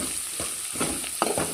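Citron chitranna rice mixture is stirred in a frying pan, a few soft scraping strokes over a light sizzle, close and fairly quiet.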